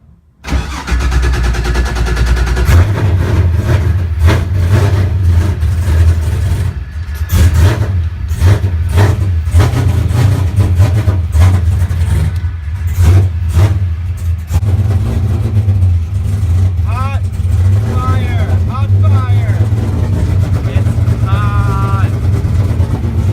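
An LSX V8 with an RHS block and All Pro heads, swapped into a Nissan S14, cranks and fires up, then idles with a loud, lumpy rumble and blips of revving throughout, with people talking faintly nearby.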